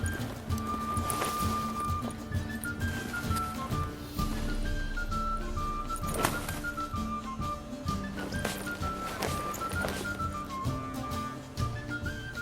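Horse hooves clip-clopping at a steady walking rhythm in the video game The Witcher 3, heard over a melodic music score with whistle-like tones.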